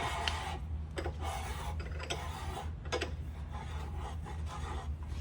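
A counterbore cutter works into an engine block to seat a piston liner, making a faint, continuous metallic rasping with short scraping strokes recurring every second or so.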